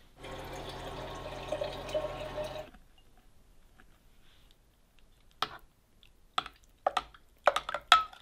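Slightly warm water runs steadily from a tap into a container for about two and a half seconds, then cuts off, followed by a few faint clinks and taps.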